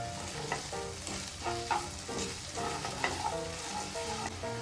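A spoon stirs sugar through a sweet Konkani mixture in a pan, with soft repeated scraping strokes over a low sizzle, close and steady with no talking.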